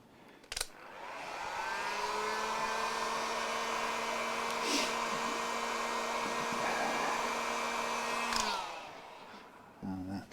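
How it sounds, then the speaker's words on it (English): A heat gun blows hot air with a steady, whirring hum that runs for about eight seconds, during work on a Fender MIM Stratocaster guitar, then winds down; faint clicks of handling come before and after. "and then we'll get the heat gun."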